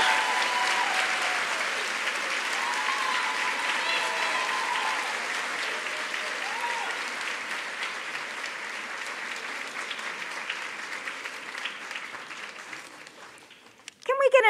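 Sustained applause fills a graduation baccalaureate ceremony hall, a steady crowd clapping that gradually thins and fades near the end, followed by a brief burst of another sound at the close.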